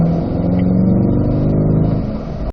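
Corvette C8 engine pulling hard on a racetrack, a loud, close, continuous mid-pitched roar rising steadily under acceleration for about two seconds before cutting off abruptly.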